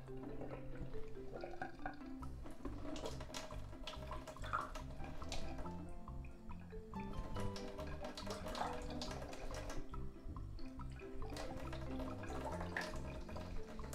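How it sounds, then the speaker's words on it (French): Lukewarm water poured into a bowl for dough, a soft, fairly faint splashing and trickling with intermittent drips, running throughout. "alors on va dire 3/4 d'eau tiède."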